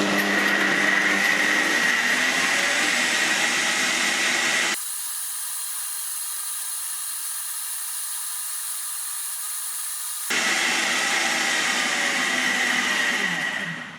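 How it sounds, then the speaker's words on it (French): Hauswirt 1200W blender with eight blades mixing pineapple, coconut milk and ice cream at high speed: a loud, close motor whine that drops to a quieter, thinner tone midway, then returns to full roar before easing off. "Ensuite, il faut mixer à grande vitesse jusqu'à obtenir un mélange mousseux."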